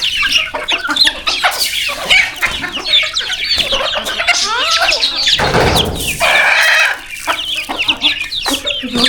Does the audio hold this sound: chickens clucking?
yes